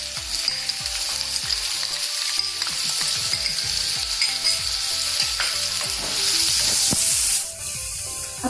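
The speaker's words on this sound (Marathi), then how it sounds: "जिरं छान फुललं तेलात की आपण कांदा टाकूयात त्यात" Chopped onion sizzling in hot oil with cumin seeds for dal tadka, a bright, continuous frying hiss up close with stirring taps and scrapes throughout, no talk.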